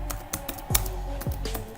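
Typing on a computer keyboard, a quick irregular run of light clicking keystrokes close up, with a low steady hum underneath and no talk.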